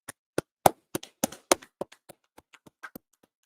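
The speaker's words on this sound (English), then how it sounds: "Let's clap it up. Let's clap it up." Single pair of hands clapping slowly and unevenly, about fifteen sharp claps spaced roughly a quarter second apart, loud at first then fading softer toward the end, close and alone in a quiet room.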